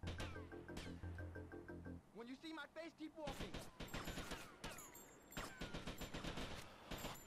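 Gunfire in the video game GTA Vice City, with bursts of rapid shots and sharp impacts after an opening stretch of steady tones, loud and close, mixed with someone talking over it.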